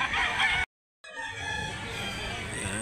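A rooster at a poultry sale in Mantalungon, Barili, Cebu crows loudly and close by, the call broken by a brief dropout before it carries on, with faint talk in the background.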